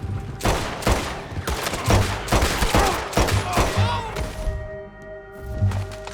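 Chaotic exchange of gunfire in Red Dead Redemption 2, many loud overlapping shots and thuds in rapid irregular succession, tapering toward the end with a lingering tone and a final few reports.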